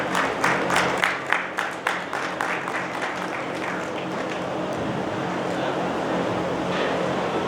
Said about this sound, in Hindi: आप उन सबके लिए जोरदार तालियां बजाइए